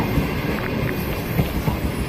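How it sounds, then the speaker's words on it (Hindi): A Pakistan Railways GU40 locomotive hauling the Shalimar Express out of Sahiwal station, its CNR coaches rolling with a loud, steady rumble close by, no voices. "GU40 ने रेलवे स्टेशन साहिवाल से निकलते ही बहुत अच्छा नोचअप किया है।"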